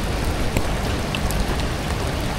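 Steady rain pours during an approaching typhoon at a camp at Coto Mines in Masinloc, Zambales, a dense, even hiss close to the microphone that runs throughout.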